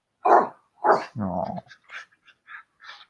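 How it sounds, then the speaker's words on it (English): A small, dark miniature schnauzer barks close by: two sharp barks, a short growl, then a string of quick, high yips. A person briefly reacts. "so if you hear barking, that's why."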